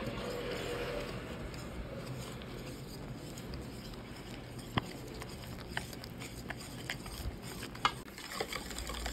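Cornstarch cake batter with sugar and baking powder is whisked in a bowl, producing a continuous soft swishing stir with occasional light clinks of the utensil against the bowl.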